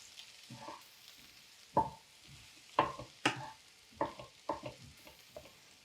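Spice powders such as coriander powder, cumin powder and red chilli powder being mixed in a bowl for a samosa filling, heard as quiet, irregular spoon scrapes and taps close by, with no talking.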